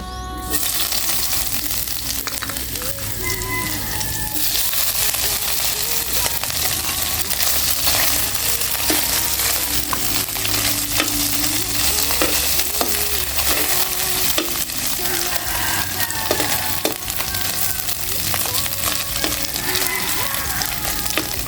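Food sizzles and fries in a pan with steady crackling spatter, punctuated by clinks and scrapes of a utensil stirring against the pan, close and continuous throughout.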